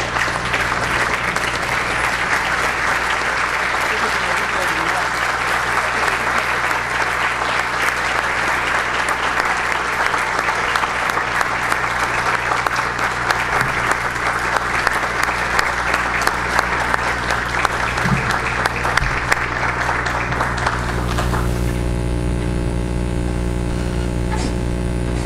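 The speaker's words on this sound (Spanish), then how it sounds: "Lo recibimos con un fuerte aplauso" Strong, sustained applause from a standing audience at an honorary doctorate ceremony for Luis Almagro Lemes in Uruguay, a dense wash of clapping that carries on for about twenty seconds before cutting to quieter hall sound.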